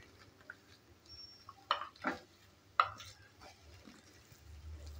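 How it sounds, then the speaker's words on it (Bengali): A spoon stirs lightly toasted grated coconut and jaggery in a pan, giving a few sharp scraping knocks and soft shuffles, close but quiet with long gaps between them. "গুড়টা দেওয়ার পর ভালো করে আবারও নেড়েচেড়ে নিচ্ছি।"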